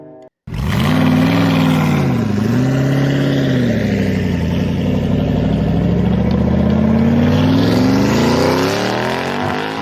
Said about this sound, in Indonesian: terdengar suara mobil yang baru saja pergi dari sana